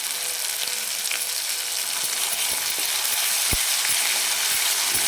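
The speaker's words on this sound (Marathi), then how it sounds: "याला तेलामध्ये असं ढवळत राहायचं आहे आणि गॅस स्लो ठेवायचा" Mutton with fresh ground masala stirred and fried in oil over a low flame; a continuous close sizzle with soft stirring scrapes and occasional light knocks, no talk.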